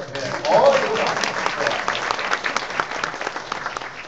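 Studio audience applause at a talk show, a burst of clapping that swells and then tapers off gradually, with a voice speaking over it.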